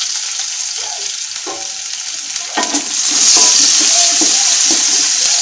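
Onions and green chilies frying in a pan while being stirred, a steady loud sizzle with scraping stir strokes, no talk.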